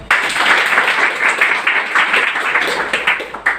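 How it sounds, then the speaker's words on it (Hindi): An audience at a live spiritual talk by a Brahma Kumaris speaker in Mumbai claps steadily, a dense, continuous patter of many hands held at an even level for a few seconds. "ताली बजाओ एक बार"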